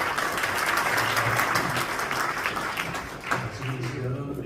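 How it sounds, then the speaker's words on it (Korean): A crowd applauds steadily for several seconds at an international symposium in Seoul, a dense wash of clapping that thins slightly toward the end. "진행해주신 이국진 목사님 감사의 박수 한번 보내드리겠습니다"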